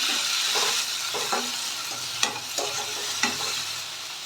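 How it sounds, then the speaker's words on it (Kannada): Chopped tomato tossed into browned onions frying in a pan, a steady moderate sizzle punctuated by several soft scraping stirs at irregular intervals. "ಇದಕ್ಕೆ ಒಂದು ಟೊಮೊಟೊನ ಕಟ್ ಮಾಡಿಟ್ಕೊಂಡಿದ್ದೀನಿ ನಾನು ಅದನ್ನು ಸೇರಿಸ್ಕೊತಾ ಇದ್ದೀನಿ"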